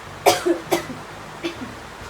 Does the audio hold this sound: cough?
yes